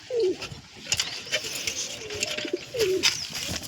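Young pigeon chicks coo in short rising and falling calls, several in a row close by, over a soft background of patter and faint rustling.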